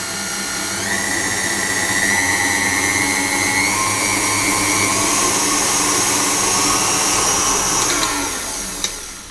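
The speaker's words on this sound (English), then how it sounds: "So we'll go on and we'll mix this butter and sugar together first of all" Electric mixer creaming butter and sugar for a lemon butter cake batter, a loud, steady motor whine with rising and falling tones, running close and continuously without talk until a brief clunk near the end.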